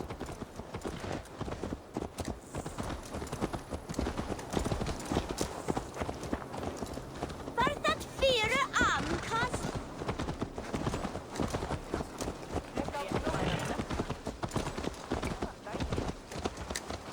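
Horse hooves clip-clop in a steady, rapid rhythm in the Viking-era game Assassin's Creed Valhalla, running throughout at moderate volume with a brief whinny midway and speech over it.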